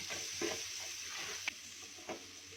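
A small onion sautéing in a frying pan previously used for chicken, a soft steady sizzle with occasional stirring scrapes, faint and close, with no talking.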